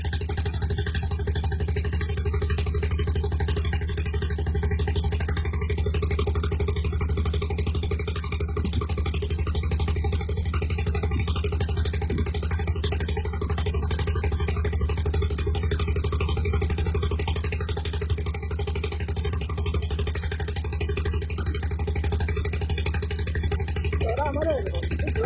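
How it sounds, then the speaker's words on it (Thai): A tractor engine running steadily nearby with a low chugging drone and mechanical clatter, unbroken throughout, and faint voices sometimes audible underneath. "รถไถ"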